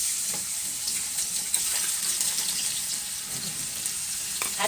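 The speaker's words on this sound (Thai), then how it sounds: "น้ำมันร้อนเราก็จะใส่พริกกระเทียมค่ะ" Chili and garlic sizzle steadily in hot oil in a pan for Thai stir-fried basil pork, a constant loud crackling hiss with occasional stirring sounds.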